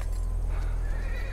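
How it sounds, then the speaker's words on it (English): A horse whinnies over the clip-clop of hooves, close and clear, in a brief burst against a low rumbling background. "Quartermain ditched the horses."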